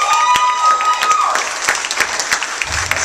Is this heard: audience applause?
yes